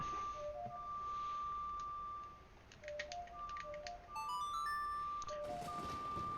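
A melody from the Zelda game Majora's Mask plays as a short sequence of bright chiming notes over a soft background hum, then a brief rising run of tones closes it out.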